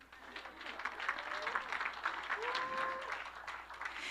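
Faint applause rises from a church congregation for singers at a Christmas-season service, scattered clapping with a few voices calling out above it.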